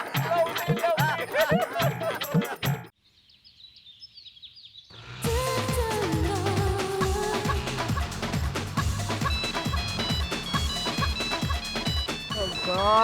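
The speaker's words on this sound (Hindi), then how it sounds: "ये फोन भी कभी भी बजता है" Music cuts out for a brief, faint electronic phone ringtone trill, high and warbling, before loud music returns.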